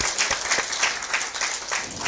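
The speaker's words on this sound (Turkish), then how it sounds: "Bir alkışla başkanımı alalım." A crowd gives sustained, even applause to welcome the mayor at an evening event in Anatolia, a continuous wash of clapping at moderate loudness with no talk over it.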